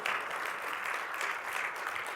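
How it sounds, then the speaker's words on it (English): A crowd claps continuously at a sports philanthropy conference, a steady wash of applause throughout with no distinct individual claps standing out. "Clap it up for that, okay?"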